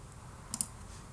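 Two quick, close clicks of a computer mouse in a classroom setting, sharp and faint against quiet room tone, with no talking.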